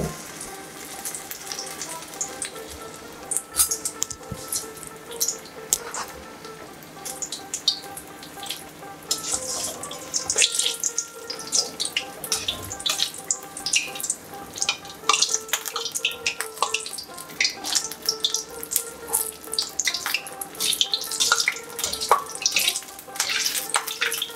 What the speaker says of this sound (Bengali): এবার আমি বেগুনিগুলো ভেজে নেব। বেগুনি আমি 2 পিঠ লালচে করে ভেজে নেব।